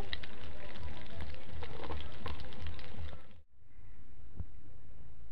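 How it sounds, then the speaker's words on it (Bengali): Bay leaves and cumin seeds dropped into hot oil for tempering in a Bengali cabbage and prawn dish, a dense crackling sizzle with popping bursts that cuts off briefly, then resumes more quietly. "তেলের উপর আমি একটু তেজপাতা ফোড়ন দিচ্ছি, কটা জিরে দেবো ফোড়ন, কটা জিরে ফোড়ন দিয়ে নিচ্ছি।"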